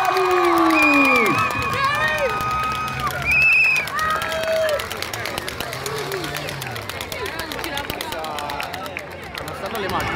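Roadside crowd in Cerreto Sannita cheering, shouting and clapping as Giro d'Italia stage riders arrive, with an amplified announcer's voice and whistles over loud, sustained noise that fades slightly later.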